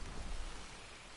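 Steady, dense rain pours through a thunderstorm in the Western video game Red Dead Online, a continuous loud wash of broadband noise with low rumbling underneath and no voices.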